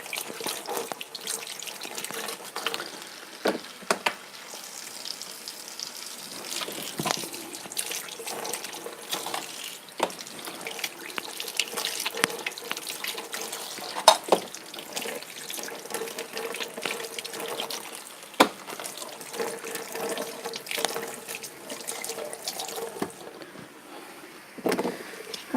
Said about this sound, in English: I'm going to wash these veggies too.